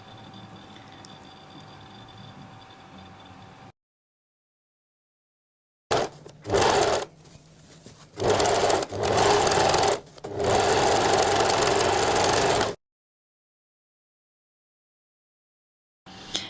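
A sewing machine stitches a garment lining in several loud bursts of rapid mechanical whirring, separated by pauses and silence, with a faint background hum before the first run.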